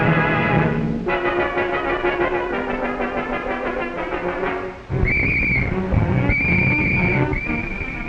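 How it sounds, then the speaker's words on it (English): A warden's air raid whistle shrills in bursts during wartime factory preparation, sounding as several sharp, loud blasts over a busy background of music and noise in the second half. "When the warden's whistle blows"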